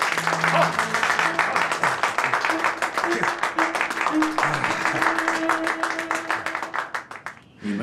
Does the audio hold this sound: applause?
yes